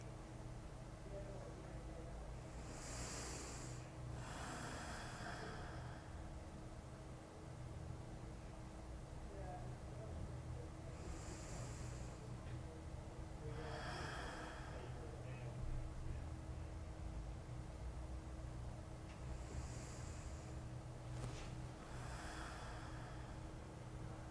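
Slow paced 4-4-4-4 breathing during an exercise session, with soft, close breaths repeating every few seconds in an even rhythm over a faint steady hum, no talking.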